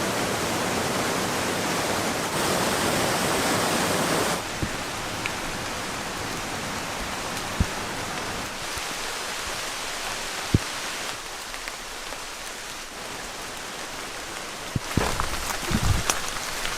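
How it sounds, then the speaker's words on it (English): Steady rain falls in a Malaysian jungle near a waterfall, a dense, even hiss of drops with louder wash early on and a few sharp nearby knocks and splashes toward the end. "It's a little more rainy and wet than I anticipated"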